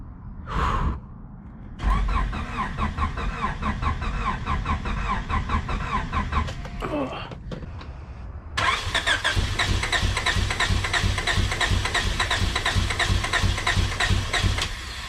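A junkyard Honda CRX engine cranks in a short burst, then goes through a longer cranking attempt that catches, and finally runs loud and close at a steady, rough idle.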